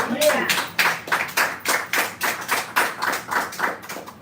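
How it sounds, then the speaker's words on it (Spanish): A church congregation claps in steady rhythmic unison, about two claps per second, sharp and close, with some voices mixed in among the claps. "¿Cuántos aplauden al Eterno?"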